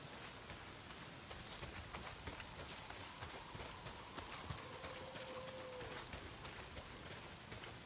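Heavy downpour in the video game Days Gone, a steady hiss of rain on surfaces filling the scene, with faint footsteps and a brief tone mixed underneath.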